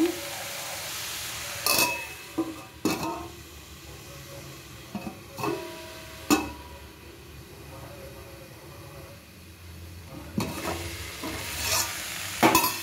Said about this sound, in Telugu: క్యాబేజీ వేసుకున్న తర్వాత ఇలా కలుపుకొని కాసేపు మూత పెట్టి ఉంచుకోవాలండి